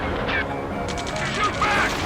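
Rapid gunfire crackles in the Ace Combat 7 campaign mission Operation Lighthouse Keeper, bursts of shots mixed with battle noise beneath shouting radio voices.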